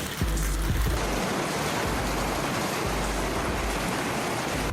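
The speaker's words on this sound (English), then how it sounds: "This particular hailstorm caused significant damage to many homes." Large hailstones pour down during a severe hailstorm near Novosibirsk, a dense, steady roar of pelting impacts that holds loud and continuous throughout.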